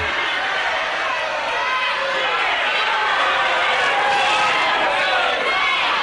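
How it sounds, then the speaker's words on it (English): A wrestling arena crowd roars steadily in support of Steve Veidor, a dense, continuous wash of cheering and shouting that stays loud throughout with no breaks. "And there's the crowd all for Veidor."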